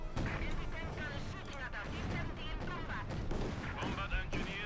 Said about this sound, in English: Panther 4 there getting several nasty hits from the field gun